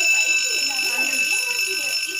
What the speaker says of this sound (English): So there's an alarm going on.